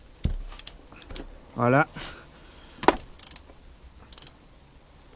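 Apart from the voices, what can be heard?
socket ratchet loosening oil filter on Renault Espace V dCi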